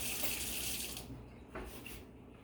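Water is poured into waffle batter in a home kitchen, a steady splashing stream that runs for about a second and then tapers into lighter trickles.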